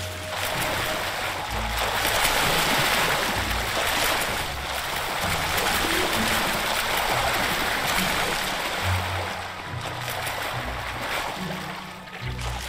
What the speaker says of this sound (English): Beipi have the astonishing ability to breach the water.